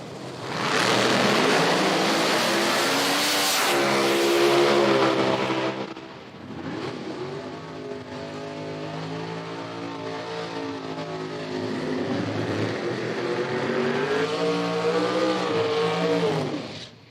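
Nitro drag racing car making a pass at a drag strip, a loud roaring engine that swells, drops off as the driver lifts, then rises again and holds until the end.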